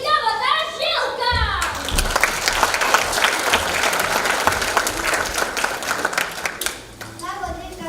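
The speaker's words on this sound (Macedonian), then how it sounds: "Ве молим за еден огромен аплауз за великавата Жилка." A theatre audience at a stage musical breaks into loud, sustained applause for a performer. The dense clapping follows a short spoken introduction, holds for several seconds, then fades as a voice resumes.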